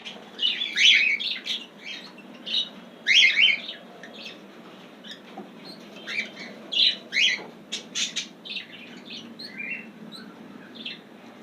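Pet birds squawk and chirp in irregular bursts, with sharp clustered calls rising and falling over a quiet background, fairly close and heard without any talking.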